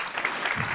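Applause from a French audience at a presentation of Webassoc, a steady wash of many hands clapping at moderate loudness, filling the short moment without pause.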